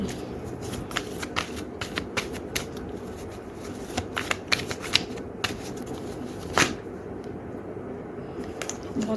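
Tarot cards being shuffled by hand: a steady run of crisp, close riffling flicks and soft slaps with no talking, fairly quiet overall.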